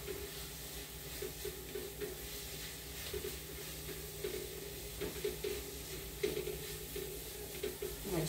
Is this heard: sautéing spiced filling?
yes